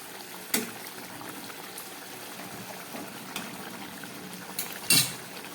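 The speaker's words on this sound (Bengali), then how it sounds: "মাছের ঝালটা ফুটছে" Bengali rohu fish curry simmers in a pan with a soft, steady bubbling hiss, broken by a few sharper pops and splutters near the end.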